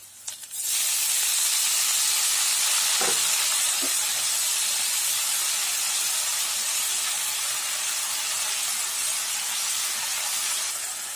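Drumstick leaves frying with sautéed onions in a hot pan for a Tamil keerai dish, giving a loud, steady sizzling hiss that starts suddenly and holds throughout, close by and with no speech.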